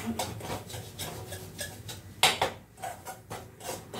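Semolina being roasted in a pan for halwa in a home kitchen, a spoon repeatedly scraping and stirring against the pan in an irregular rhythm, close up, with one sharper metallic clink midway.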